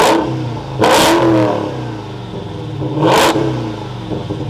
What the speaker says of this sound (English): let's fire this back up and take a listen to that V8